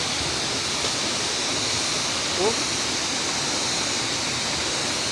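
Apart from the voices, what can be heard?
strong water flow of Budoy Falls waterfall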